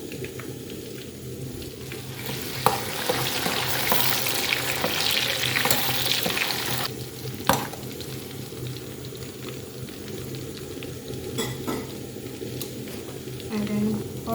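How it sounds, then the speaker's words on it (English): Locust beans fry in hot palm oil with a continuous crackling sizzle that swells midway and then settles, joined by a few sharp utensil knocks and faint background sounds. "I threw in the palm oil. It's hot."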